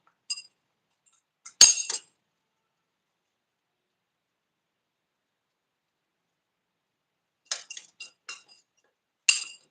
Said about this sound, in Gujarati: હવે એના આપણે બધા મસાલાને આપણે મિક્સ કરી લેશું